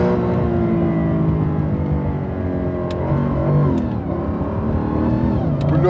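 McLaren Mercedes SLR sports car driven in manual mode, its engine droning steadily and revving through low harmonics, loud and close throughout with a few brief high clicks.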